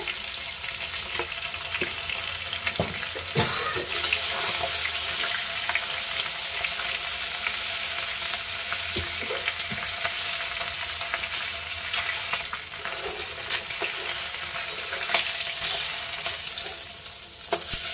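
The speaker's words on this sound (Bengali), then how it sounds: "আমার মাছটাও মোটামুটি হয়ে এসছে ভাজা" Pieces of rohu fish fry in hot oil in a home kitchen, with a steady, loud sizzle running throughout and occasional stirring scrapes.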